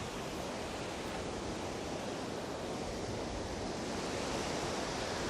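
Ocean surf washes steadily beside a fishing pier, a dense, constant roar of breaking waves that stays loud and even throughout, with no voices.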